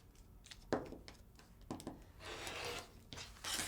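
A sharp rotary cutter slices through quilting fabric beside a ruler while a jelly roll tote is made, giving several short rasping rubs and strokes at close range with no talk.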